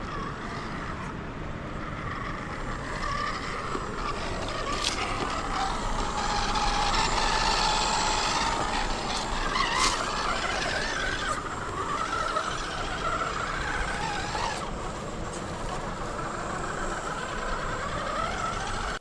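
A Vanquish Mullet RC rock crawler drives over rocks, with a continuous close motor whine that rises and falls along with scraping and crunching of tires on stone, and no talk.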